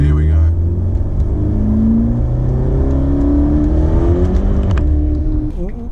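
A Ferrari GTC4Lusso T pulls away, its engine note rising and sweeping through gear changes at close range, loud and continuous, with a voice talking over the drive.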